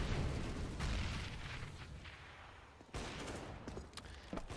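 Gunfire and grenade blasts from a Counter-Strike match, professional esports at ECS Season 5 Europe, on the map Train: muffled booms and a rattle of distant shots, followed by a sharper burst of fire and a few quick cracks, all fairly faint.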